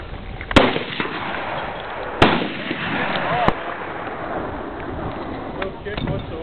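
A Kimber .45 pistol fires at a shooting range, giving three sharp, loud cracks spaced a second or more apart, with fainter pops later and voices in the background.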